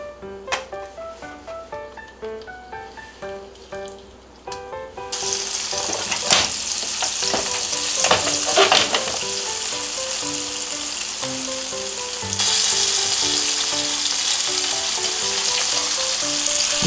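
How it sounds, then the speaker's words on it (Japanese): Flour-dusted swordfish and onion sizzle gently in a pan over low heat, a soft patter at first that swells into a denser, steady frying hiss with occasional taps and shuffles. "様子を見ながら弱火でゆっくり焼いてください。"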